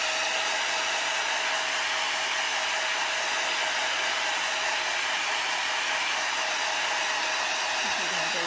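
A handheld hair dryer blows steadily on a chalk paste design, a loud unbroken whoosh at constant pitch that holds for the whole stretch with no pauses and no talking.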